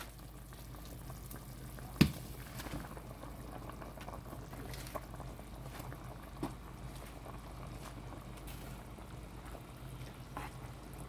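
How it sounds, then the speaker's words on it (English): A pot of chicken and vegetable soup with lemongrass bubbles at a steady low simmer, a continuous soft boiling hiss with one sharp clank near the start and a few faint knocks later, no voices. "dip it into the boiling soup."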